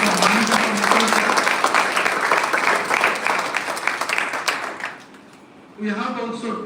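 Loud, dense applause from a university event audience honouring a guest professor, steady for about five seconds, then fading out as a voice begins speaking.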